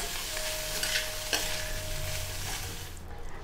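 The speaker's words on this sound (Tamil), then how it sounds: "நல்லா ஒரு மிக்ஸ் பண்ணிவிடுவோம்." A coconut, raw mango and green pea sundal is stirred in a pan, giving a continuous scraping, rustling mix over a low sizzle that fades slightly at the end. No voices.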